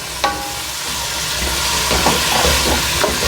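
Diced potatoes and a cup of peas sizzle and hiss in a hot pan while being stirred, a close, steady frying crackle with a few scraping stirs and no talking.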